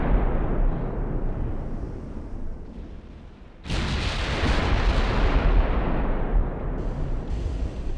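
Warship guns firing in the naval battle game Ultimate Admiral: Dreadnoughts, a dense, sustained rumble of artillery that swells abruptly into a louder, brighter roar of continuous booming salvos partway through, with no talking.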